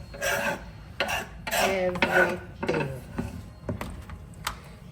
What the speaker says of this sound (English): So this is how I'm going to be dicing all the spinach till I finish everything.